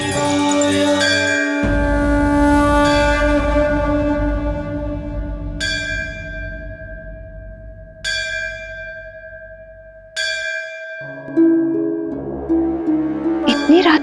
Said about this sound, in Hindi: इतनी तेज ध्वनि में घंटी बजा रहा है